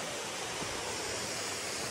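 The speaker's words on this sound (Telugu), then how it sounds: "వాటర్ ఫాల్ సౌండ్ కూడా మీరు చూసుకోవచ్చు." Steady, dense rush of a waterfall beside a mountain trail, a continuous broadband roar with no breaks or voices.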